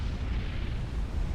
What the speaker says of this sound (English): Awasa bombs landing